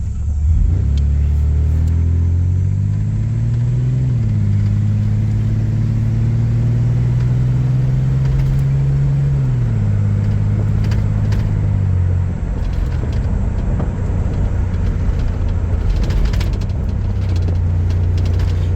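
Chevrolet Blazer driving at about 25 miles an hour: a steady, loud engine drone and road rumble, the engine note rising and dropping slightly with gentle throttle changes, heard from inside the cabin with no talk.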